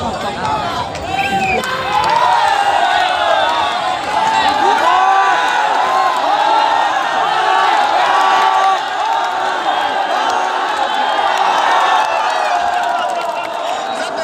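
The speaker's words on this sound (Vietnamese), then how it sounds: "chúng ta vỗ tay cổ vũ cho cả hai đội nào" A crowd at a local village sports competition cheers, shouts and applauds continuously for both teams, with children's voices and whoops mixed into the loud, sustained roar.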